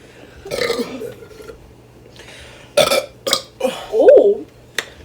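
Loud, deep burps in a family burping contest, several bursts of varied length: a long rumbling one early, then a quick series of sharp belches toward the end, close to the mic with brief voices between.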